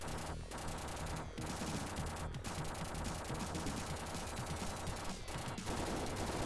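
Rapid, continuous machine-gun fire from the Terminator 2 arcade game on the Sega Genesis, a dense rattling stream of shots with a few louder bursts standing out, played steadily throughout with no talking.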